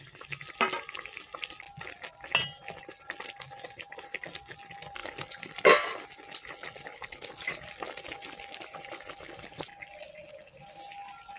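Already-fried small fish go into a pan for a sour spinach and eggplant shukto, giving a soft, steady sizzle with a few louder splashes and stirring clatters, close and fairly quiet, with no speech.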